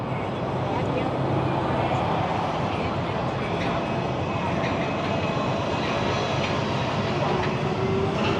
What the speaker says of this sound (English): You can see the monorail going by down there.